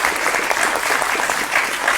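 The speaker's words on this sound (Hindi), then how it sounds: "एक बार जोरदार तालियों से आप लोग अपना स्वागत भी करिए।" A studio audience at a televised West Bengal election debate breaks into steady, dense applause, many hands clapping together at a constant loud level for the whole stretch.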